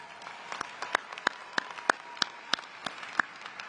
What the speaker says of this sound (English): Please give yourselves a warm round of applause.